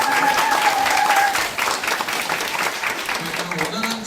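Audience applause at a Korean political youth forum event, dense continuous clapping from a crowd with some background voices and chatter mixed in, holding steady then easing slightly.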